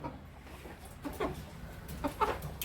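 Hens clucking in a farm coop where eggs have been broken, a few short clucks close by in bursts, louder toward the end, with no talk over them.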